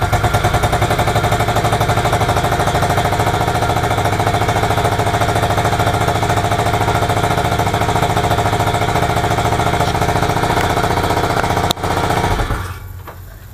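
A scooter engine runs after its carburetor has been cleaned and adjusted. It drones loudly and steadily at a constant idle, with no talk, then falters and drops away in the final second.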